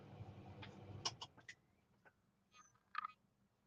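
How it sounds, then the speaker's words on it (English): A few short, bright bird chirps come in two brief bursts, fairly faint, with a soft background hush and no voices. "I think that was just a bird, but it sounded like a beep,"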